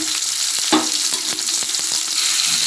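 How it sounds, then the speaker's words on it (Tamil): Onions and curry leaves frying in hot oil for goat trotter kuzhambu, a loud, close, continuous sizzle with a series of regular scraping stirs of a spatula in the pan, no voices. "வறுக்கட்டி வச்சு கொஞ்சம் எண்ணெய் ஊற்றி வெங்காயம் கருவேப்பிலை போட்டு நல்லா வதக்கலாங்க"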